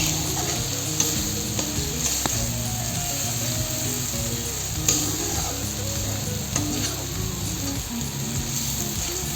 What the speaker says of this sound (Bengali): এখন খুব ভালো করে মশলাগুলোকে কষিয়ে নেব।